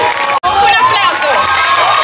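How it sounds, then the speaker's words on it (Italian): Loud, close crowd noise at a summer camp final-evening show, where children's shouts and cheers mix with clapping in a dense continuous roar broken by one very brief gap. "Un applauso."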